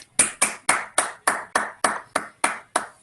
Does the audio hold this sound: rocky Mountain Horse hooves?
no